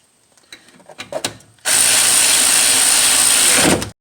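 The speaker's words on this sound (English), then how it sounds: "I'm just gonna use my ratchet" A ratchet drives 13mm bolts on the rear brakes of a 2004 Chevy Impala: a few light clicks and taps, then a loud, steady mechanical whir that runs for about two seconds close by and stops abruptly.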